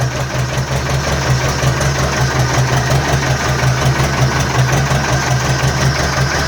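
An Ursus C-330 tractor engine, started at about 4°C, runs steadily and loudly at mid pitch with a rough, slightly uneven throbbing pulse, no voices over it.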